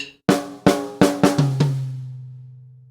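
A two-beat drum fill on a kit, a swung snare figure leading into high toms: five or six sharp hits in quick succession, the last tom note ringing out and decaying slowly, close and unaccompanied.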